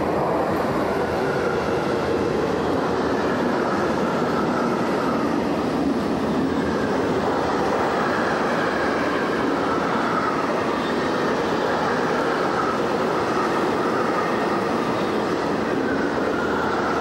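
A Class 151 electric locomotive running through Park Sanssouci station makes a loud, steady rolling roar that lasts throughout with no voices.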